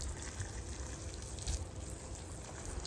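Water sprays steadily while a BMW E34 540i is washed, a continuous hissing rush close by with a low rumble underneath and no talk.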